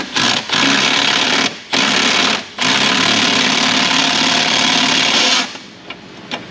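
Impact wrench or power tool rattling as fasteners are removed from a 1995 Jeep Wrangler 4.0, loud close bursts of steady buzzing broken by short pauses, then a long run that cuts off into quieter clicks.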